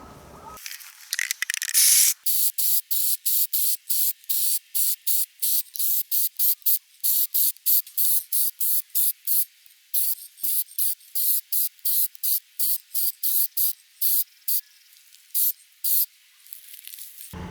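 Spray can varnish applied to a car brake caliper, a long run of short hissing bursts in a steady rhythm, close and fairly loud, with brief silent gaps between sprays.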